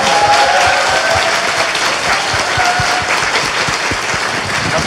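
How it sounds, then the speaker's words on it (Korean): Audience applause in a Korean talk show studio, a loud, dense, continuous round of clapping that holds evenly for several seconds with no talk over it. "박수 부탁드립니다."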